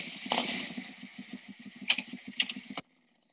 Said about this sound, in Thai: เสียงที่มาจากการทำงานของเครื่องยนต์ยานพาหนะเช่นเสียงปริศนาที่5เสียงมอเตอร์ไซค์